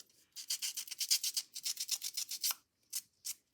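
Rapid, rhythmic scratchy rubbing of a sanding disc on a hard surface, in short repeated strokes with brief pauses, close and fairly loud.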